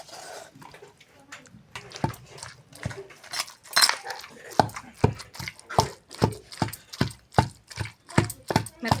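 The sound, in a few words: pounding spinach in a stone mortar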